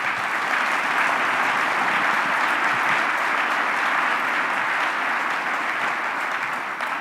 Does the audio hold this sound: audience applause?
yes